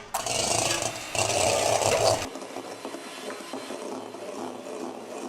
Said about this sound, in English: We're starting by beating up the egg whites first.